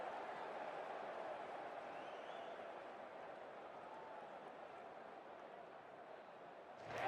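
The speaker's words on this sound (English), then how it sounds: "it's a loud crowd as the players make their way out" Steady broadband crowd roar from a stadium in the Cricket 24 video game as players walk out for a league match, loud and continuous throughout, swelling slightly at the very end with no one speaking.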